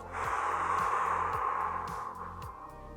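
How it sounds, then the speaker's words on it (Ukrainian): Slow deep inhale through the nose during a calming breathing exercise, a steady airy breath lasting a few seconds, close and moderately loud over a faint low background hum. "вдихаємо через ніс видихаємо через рот"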